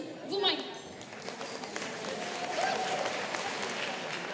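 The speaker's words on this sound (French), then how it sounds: "vous pouvez vous applaudir aussi, vous-même" Applause from an audience at a regional community event honoring a social pediatrics centre, a steady wash of clapping lasting throughout, moderately loud, with faint voices and a brief whoop mixed in.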